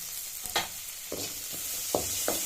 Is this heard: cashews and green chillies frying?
yes